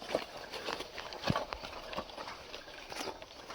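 Bullocks walk through a farm field while castor seeds are sown, their hooves giving faint, irregular clip-clop steps over low outdoor noise.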